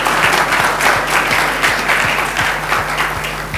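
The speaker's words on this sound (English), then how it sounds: "give them a big round of applause this morning" A church congregation applauding during a morning service, a full, sustained round of clapping from many hands that swells and holds throughout, close and loud.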